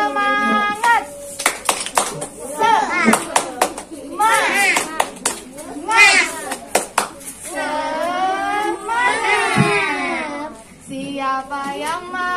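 A group of children at an Islamic kindergarten clap together in a rhythmic spirit cheer, loud and close. Young voices chant and call out over the claps.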